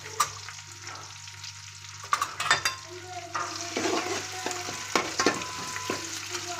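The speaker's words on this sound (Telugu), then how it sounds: "పచ్చిమిరకాయ ముక్కలు వేసి కలుపుదాం." Chopped green chillies and onions fry and get stirred in a pan for a cabbage and tomato curry, a steady close sizzle broken by sharp scraping strokes of the spoon.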